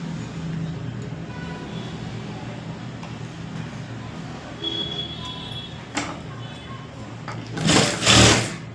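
A sewing machine runs steadily, stitching the side seams of a blouse in a continuous whir that carries through most of the clip, ending with a couple of brief louder bursts near the close.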